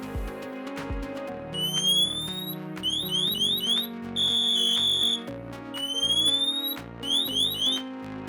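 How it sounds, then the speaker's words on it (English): A Dräger AirBoss Sentinel PASS alarm on firefighter breathing apparatus sounds after manual activation, loud rising electronic chirps in repeated bursts over a steady low warbling tone. "To test the manual activation of your pass alarm, press the yellow button on the AirBoss Sentinel."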